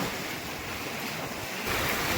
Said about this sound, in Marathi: धरतीचं पाणी आतमध्ये येतोय